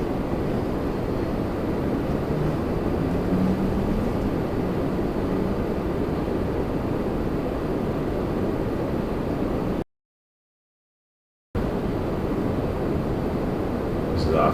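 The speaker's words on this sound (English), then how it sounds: "So one more takeoff coming here" Steady, broad jet roar of a Boeing 737 MAX 8 taking off from Toronto Pearson airport, loud and continuous throughout with a short dropout near the end.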